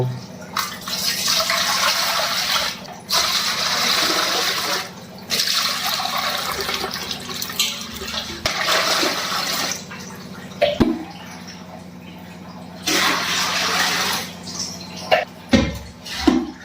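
Water pours into a metal cooking pot in long gushing bursts separated by short pauses, with a bright splashing rush and occasional clinks of the pot, no talking.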